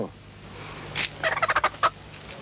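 A chicken gives a quick run of rapid, throaty pulses, nearby and fairly faint, with no voices.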